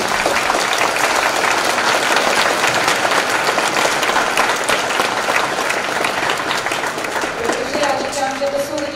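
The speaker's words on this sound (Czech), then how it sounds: "Každopádně velký potlesk." Large audience applause at a school Christmas concert of children's choirs in Karlovy Vary, loud, sustained clapping filling the hall, with faint voices and a brief tonal sound near the end.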